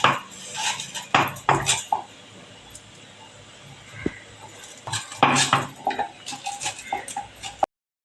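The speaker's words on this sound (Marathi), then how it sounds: "असं सगळे ह्या कैऱ्या मी चिरून घेते" Raw green mangoes being cut with a knife in a home kitchen, sharp clicks and knocks of the blade and utensils coming in irregular bursts at close range, separated by a quieter stretch in the middle.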